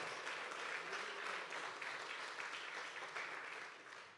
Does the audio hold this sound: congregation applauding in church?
yes